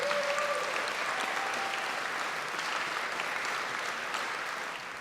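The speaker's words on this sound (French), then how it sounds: "je pense qu'on peut quand même l'applaudir." Audience applause at a stage show, steady, full clapping from a seated crowd that holds for several seconds and then slightly tapers.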